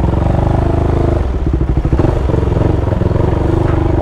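A remapped Start 470cc motorcycle engine roars loud and close, its steady drone breaking into a quick burst of rapid firing pulses as it accelerates, then settling back into a strong, even note.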